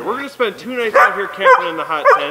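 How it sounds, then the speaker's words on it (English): Excited dogs on a winter camping trip bark and yip in repeated sharp bursts, some whimpering between them, all close by and loud, while a person talks over the noise. "If you can hear me over the barking, they're just excited."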